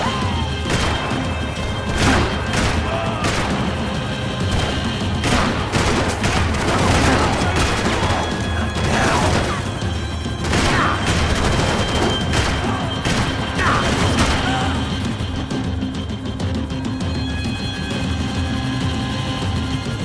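Sustained gunfire in Max Payne 3, a dense fusillade of rapid shots and bursts with thuds and crashes, loud and continuous across the whole stretch with occasional shouted game dialogue beneath.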